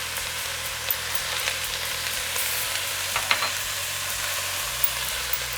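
Spices fry in a pan for a vegetarian soya chunk pulao, giving a loud, steady, close sizzle that hisses without a break for several seconds. A low hum sits underneath, with a few faint clicks and no voices.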